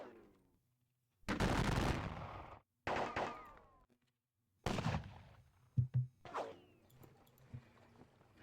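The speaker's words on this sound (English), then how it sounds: "Kleist, you are going to open fire on them." Loud bursts of massed musket volleys in a Napoleonic-era wargame, several crackling rolls of gunfire separated by silences, followed by scattered sharper shots and thuds.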